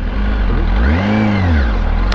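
Engine of a restricted circuit-built vehicle revving loudly nearby, pitch rising and falling in one sweep over constant heavy rumble, with no talk.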